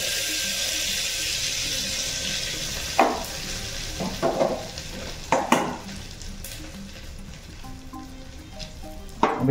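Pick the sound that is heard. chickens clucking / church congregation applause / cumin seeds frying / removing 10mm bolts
cumin seeds frying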